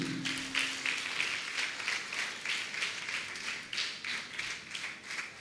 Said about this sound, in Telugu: అందరూ చప్పట్లు కొడదామండి